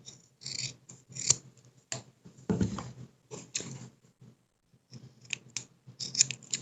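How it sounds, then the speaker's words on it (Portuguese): Scissors snip away excess fabric at the corner of a patchwork cloth cover for a notebook or book, giving several crisp close cuts with quiet rustling of the cloth in between and short pauses. "Vamos cortar esse excesso aqui do cantinho"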